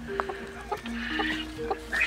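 Broody hens on a farm give low, intermittent clucks and short throaty calls at close range, spaced irregularly over a quiet background with faint other fowl sounds.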